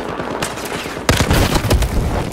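In the Gun Master video game an LMG machine gun fires in rapid bursts, with sparser shots followed by a louder, denser stream of gunfire and booming reports close up.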